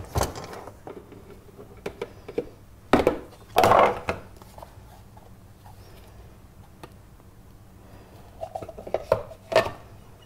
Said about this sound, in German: Mehl, Mandeln, Zucker, Vanillezucker, Backpulver und Natron in einer Rührschüssel mischen.